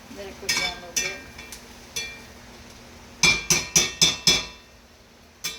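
A utensil knocks against a small pan of creamy pasta cooking down, giving sparse light clinks early, then a quick run of five sharp metallic taps, close and fairly quiet with no talk.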